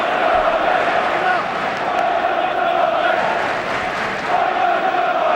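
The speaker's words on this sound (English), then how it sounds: "Crowd really finding their voice now." A football crowd at the Chelsea vs Tottenham FA Cup quarter-final keeps up a loud, sustained roar of cheering and chanting from the stands.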